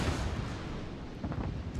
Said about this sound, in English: Our teammate fires and gets a good salvo off on him